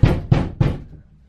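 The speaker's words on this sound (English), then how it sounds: "someone knocked on the door" Three sharp knocks on a door land in quick, even succession, loud and close, followed by a brief quiet tail with no voices.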